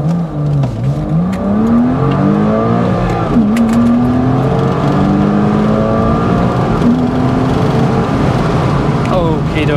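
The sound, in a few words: Porsche Boxster S 987 accelerating from a soft launch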